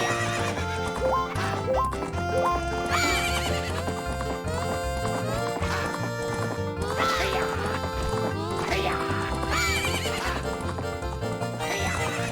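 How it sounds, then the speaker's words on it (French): A horse in Zelda: Majora's Mask on the N64 gallops with rhythmic clip-clop hooves and repeated whinnies, mixed with cheerful game music and other animal calls, loud and continuous. "il faut que le cheval prenne de la vitesse"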